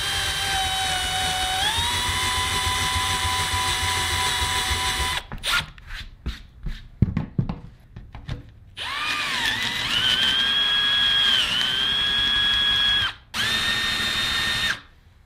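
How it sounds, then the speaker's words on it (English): A power drill with a spade bit countersinks holes for a DIY goose gear platform: a long whining run, then short bursts and clatter, then two more sustained drilling passes, loud and close. "I'm gonna use these holes to locate my spade bit here. That way we can countersink these holes."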